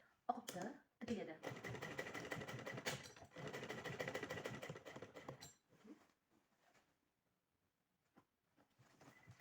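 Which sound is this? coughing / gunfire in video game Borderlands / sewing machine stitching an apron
sewing machine stitching an apron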